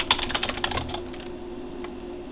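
Quick burst of keystrokes on a computer keyboard entering a command in a text game, a rapid cluster of clicks that fades into a quiet room hum.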